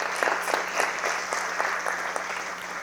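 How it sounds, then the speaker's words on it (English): An audience at a State of the City event applauds a local official, with many hands clapping steadily and moderately loud for a few seconds, the claps tapering slightly toward the end. "How about an applause for Mark Reams?"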